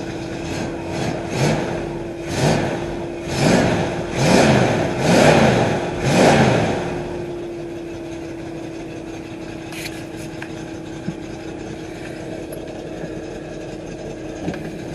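A 1968 Ford Mustang engine with a misfiring cylinder revs in a series of rising and falling bursts for about seven seconds, then settles into a steady, uneven idle with a constant hum, close and loud.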